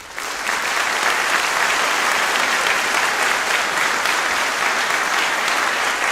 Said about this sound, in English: join me in please providing all of the staff members a round of applause